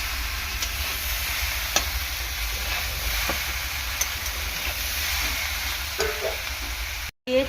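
Jackfruit-seed vegetable curry stirred in a pan, a steady low sizzle and hiss with occasional soft scrapes of the spoon, close and fairly quiet, with no talking.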